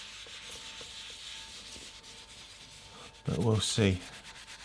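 A surface being scrubbed with Bar Keepers Friend powder and water makes a soft rubbing scrape under quiet background, then a brief stretch of spoken words near the end.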